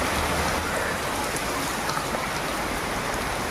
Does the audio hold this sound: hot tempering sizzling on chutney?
no